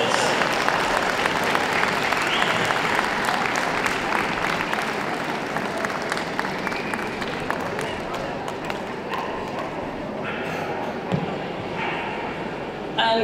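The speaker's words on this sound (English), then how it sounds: "Big round of applause." Applause ringing out at the Manchester 2017 dog show after the Terrier Group win, sustained and full across the hall, with dogs yapping and barking through it and an announcer's voice over the top.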